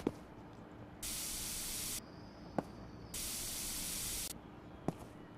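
Deodorizing spray is sprayed in a video game in two hissing bursts of about a second each, separated by short clicks, close and clear over a quiet background.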